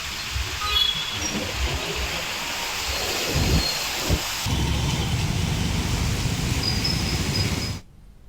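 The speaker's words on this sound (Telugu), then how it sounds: "హైదరాబాద్లో కుండపోత వాన పడుతోంది." Torrential rain pours down in Hyderabad with rolling thunder, a dense steady wash punctuated by several deep rumbles and cracks, loud and close, no talking.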